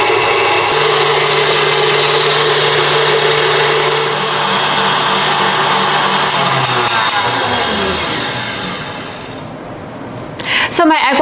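An electric hand mixer runs steadily on high, whipping egg whites to stiff peaks with a loud, sustained motor whine and rattle, its pitch shifting partway through before it cuts off near the end.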